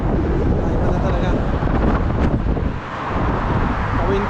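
Cold winter wind outdoors in Canada buffets the microphone with a loud, continuous low roar that dips briefly midway before returning.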